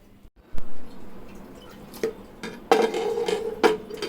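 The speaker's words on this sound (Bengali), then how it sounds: "এখন এটা আমি আরেকটা প্লেট দিয়ে এটার থেকে আমি ডিমোল্ড করে নিচ্ছি।" Coconut jello pudding being turned out of its mold onto another plate, with a soft wet plop, dripping, and several clinks of dishes against each other in a quiet kitchen.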